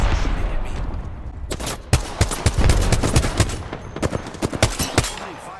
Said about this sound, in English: the enemy is shooting at me